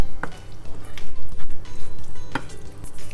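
A spoon stirs lasagne filling mixture seasoned with salt, steady soft scraping and squishing with a light sizzle underneath and a couple of sharp clinks against the pan.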